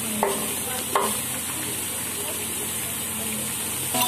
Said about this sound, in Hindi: टमाटर डालने के बाद हम इसे अच्छे से चला देंगे, आपस में मिक्स कर देंगे अच्छे से।